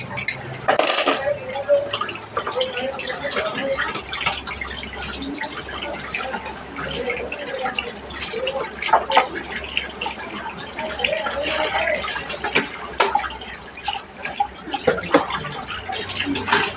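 Running water splashes steadily with clinks and clatter, as if dishes are being rinsed, while a voice talks intermittently over it.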